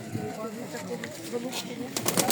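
Soft pigeon coos murmur close by at a market fair in Berdychiv, mixed with rustling and a few faint voices in the background.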